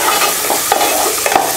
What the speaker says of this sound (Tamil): முள்ளங்கியை இது போல எண்ணெயில வதக்கி நம்ம சாம்பார் செஞ்சோம்னா